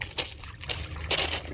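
Water from a boat faucet, pumped through while the fresh water system is winterized, splutters and sloshes in short irregular bursts as air is pushed out, close by.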